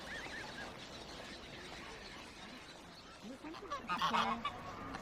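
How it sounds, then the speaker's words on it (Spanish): Geese honking by a riverside in Mérida, a few loud close calls around the middle and end over a constant background of chirping birds and faint ambient noise. "La banda sonora omnipresente es el canto de los pájaros."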